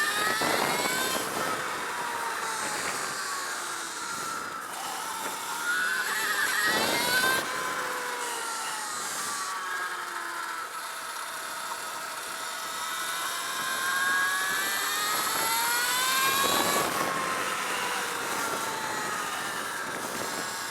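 An Alta Redshift SM39 electric supermoto motorcycle accelerates on the track at Desert Park Raceway during practice, giving a steady, loud electric whine with rising and falling pitch sweeps and a few sharp bursts, with no speech.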